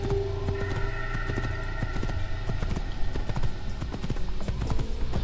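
A horse in Assassin's Creed sets off at a gallop, its rapid hoofbeats clip-clopping in a steady, close rhythm over game ambience, with a brief whinny near the start.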